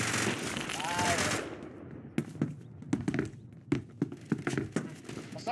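Gunfire from an MGV-176 machine gun in the video game Phantom Forces, heard as a loose series of sharp bursts and single reports after a stretch of louder mixed game noise, fairly close.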